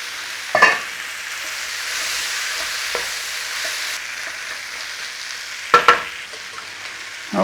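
Beef stir-frying in a hot pan, a steady sizzle running throughout with a few sharp clanks of the utensil against the pan, close and alone without any voices.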